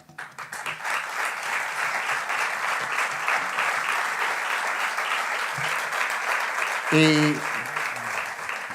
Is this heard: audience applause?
yes